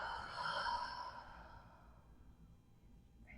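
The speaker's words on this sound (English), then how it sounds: "Take another deep grounding breath. Let it go." A deep breath let out slowly during a guided past life regression relaxation, a soft airy sigh that starts fairly full and trails off quietly over a few seconds, alone with no talking.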